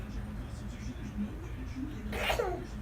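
An 8-to-9-month-old baby imitates a sneeze with one short, sharp vocal burst near the end, close and fairly loud, following a stretch of quiet babble and low room rumble.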